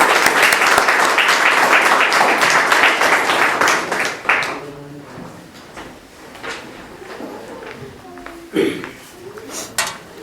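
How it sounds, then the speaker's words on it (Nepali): A church congregation at a Saturday service applauds to welcome the pastor, with dense, loud clapping for about four seconds before it thins out into scattered softer sounds and quiet room noise. "उहाँलाई ताली बजाएर स्वागत गरौँ।"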